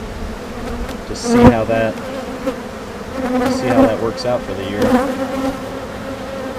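A large colony of honeybees buzzes loudly and continuously around an open single deep brood box, a dense close drone with someone talking over it.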